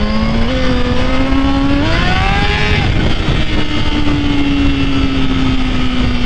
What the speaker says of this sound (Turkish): Of, motorun sesine bak.